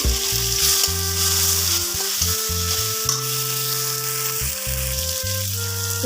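Bay leaf sizzles in hot oil in a pan for Assamese fish curry, with tomatoes already added. A steady loud frying hiss runs throughout, with occasional stirring scrapes and no talking.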